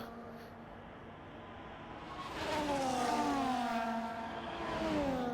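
A race car engine in a sim-racing league game screams through a hot lap at the Australia round, its pitch sweeping up and down through gear changes after a quieter opening.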